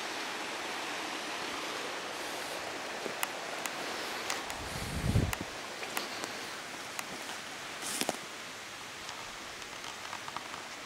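A low river flows past a creek-side spot, a soft steady wash of water running throughout with faint rustles and small ticks, no one speaking.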